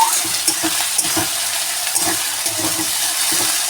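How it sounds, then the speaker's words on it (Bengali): Potatoes being stirred and fried in a pan, with a steady sizzle of hot oil and repeated scraping stirs at a loose, regular rhythm, close and fairly loud with no talking. "আমি নাড়াচাড়া করে দিয়েছি, একটু ভাজা ভাজা হয়ে গেছে একটা পিঠ।"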